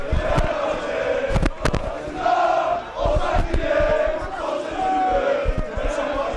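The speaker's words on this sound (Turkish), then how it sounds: "Sarı lacivertli taraftarlar tezahüratlarla yine Sevgileri dile getirmeyi sürdürüyorlar" Fenerbahçe supporters chanting together as a dense crowd at the Samandıra training ground, a steady roar of voices with sustained sung notes and a few sharp claps or bangs punctuating it.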